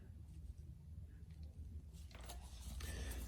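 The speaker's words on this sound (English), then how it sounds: "now let's start tightening this bolt down" Ratchet tightening a bolt on the rear toe arm of a BMW M2, a run of quick mechanical clicks that grows denser and louder in the second half, close by with no talk.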